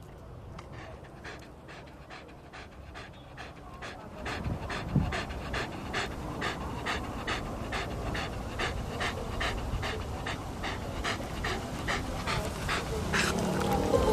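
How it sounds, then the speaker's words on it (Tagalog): Stray dogs panting on a street, with quick rhythmic breaths heard close up that grow louder and busier partway through, no talking. "Ito ang pang-araw-araw na tanawin ng mga galang aso."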